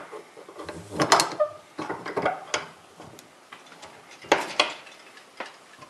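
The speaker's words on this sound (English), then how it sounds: "So I'm going to just choose to clamp it in the vise like this." A steel front sight for a low-profile gas block is clamped in a bench vise with sharp metallic clicks, clanks and ratcheting taps in uneven bursts. The sounds are close, and no voices are heard.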